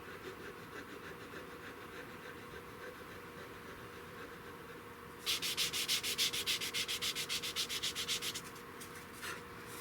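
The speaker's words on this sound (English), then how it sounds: "You can roll your sandpaper out and just put it in there." Rapid rhythmic sandpaper strokes rasp back and forth on a 16-gauge shotgun's wooden stock for several seconds after a stretch of quiet background, then stop with one brief final scrape.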